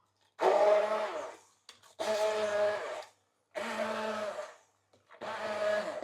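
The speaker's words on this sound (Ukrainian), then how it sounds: "Пробуваємо блендером." Four bursts of a blender whirring loudly through an egg and spinach mixture, each lasting about a second, separated by short pauses.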